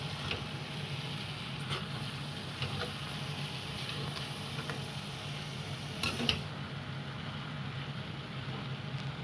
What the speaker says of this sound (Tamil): உப்பு கருவேப்பிலை போட்டு நம்ம வதக்கிக்கணும்